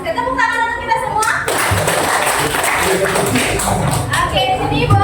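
A classroom group claps hands together in a dense burst of steady clapping that runs nearly the whole time, with a teacher's voice briefly heard at the start before it begins.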